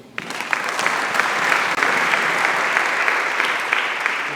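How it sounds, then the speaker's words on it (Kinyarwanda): A church congregation at a panel gathering breaks into dense, steady applause that starts abruptly and holds at full strength throughout. "Reka dukoma amashyi."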